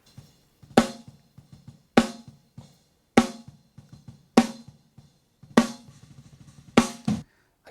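A snare drum gated in a mix, with sharp isolated cracks landing about every 1.2 seconds and quick decays cut short between them, over softer ghost-note patter.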